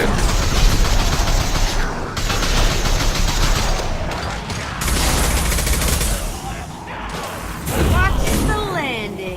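Heavy weapon fire and explosions roar through a Mass Effect 2 battle. Dense bursts of gunfire and booms fill the scene with short lulls between them, and a few voice fragments are mixed in.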